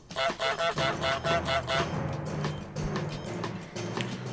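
Repeated honking calls from the goose in Untitled Goose Game, about a dozen evenly spaced pulses in the first two seconds, followed by a denser, rougher stretch of honks and noise.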